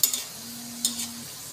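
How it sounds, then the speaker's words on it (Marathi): Pakoras fry in hot oil in a kadhai over a medium-low gas flame, giving a soft, steady sizzle with a few sharper crackling bursts under a low hum. "मीडियम टू स्लो गॅसवर छानपैकी तळून घ्यायचे आहे"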